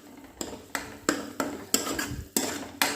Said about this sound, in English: In a pan, add some oil, stir it well